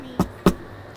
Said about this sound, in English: You can do that just by hitting the body of the guitar,